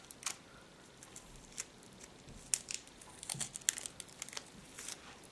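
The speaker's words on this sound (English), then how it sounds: "So now I'm just gonna remove the tape." Tape peeled away from around a fingernail after nail stamping, heard as a series of soft crinkling crackles and small sharp ticks spread unevenly across the moment, close and quiet, with no voices.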